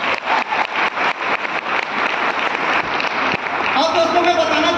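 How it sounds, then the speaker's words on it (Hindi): Audience applause at a direct-selling plan presentation, a sustained dense clapping wash with some voices and a brief tone near the end, loud and close. "यस इसके लिए एक बार जोरदार ताली मैं चाहूंगा"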